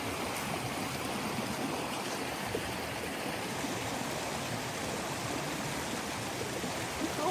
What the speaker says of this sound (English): It's amazing how a creek goes underneath the bridge and goes on the other side.